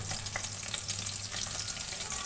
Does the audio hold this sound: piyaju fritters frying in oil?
yes